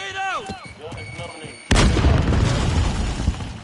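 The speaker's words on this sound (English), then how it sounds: "Grenade out!" After a stretch of voices and game tones, a grenade detonates in the shooter Call of Duty Warzone, an abrupt loud blast followed by a sustained rumbling, crackling tail.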